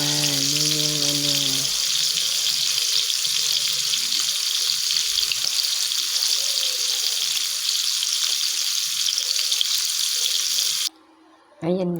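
Small fish frying in a pan, a steady broadband sizzle that runs almost unbroken for about eleven seconds, with a brief voice at the start and a short drop near the end.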